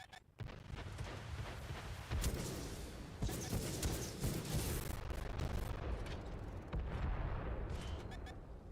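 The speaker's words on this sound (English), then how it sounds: "Launch the rockets." Rocket launchers fire during World of Tanks console gameplay on a Sturm Tiger, with a continuous rumble of booming blasts and explosions and someone speaking over it.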